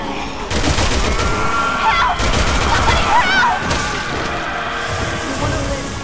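Loud gunfire fills Resident Evil 6 as Leon and Helena fight, a nearly unbroken stream of rapid shots and blasts with short bright chirping tones above it.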